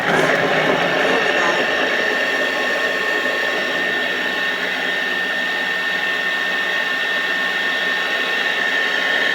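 A kitchen mixer runs at speed 6 through a mix of ingredients being worked to fine breadcrumbs, a steady loud whirring hum that holds without a break for the whole stretch.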